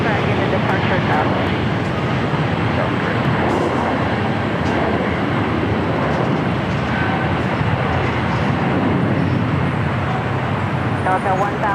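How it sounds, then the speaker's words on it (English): An Airbus A220-300 takes off from runway 25 right at LAX, a broad, loud roaring rumble that holds steady throughout, with a voice talking faintly over it. "Airbus A220-300 taking off, 25 right."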